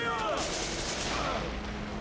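Gunfire in the video game Devil's Third rattles continuously and loudly as a dense fusillade, alone and without talk.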